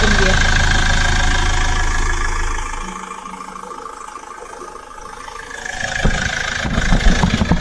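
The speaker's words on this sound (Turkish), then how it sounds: "Motor sesi normal." A caravan's engine runs at idle, loud at first, then dropping to a softer, steady rumble before rising again near the end, with a few clicks and knocks over the hum.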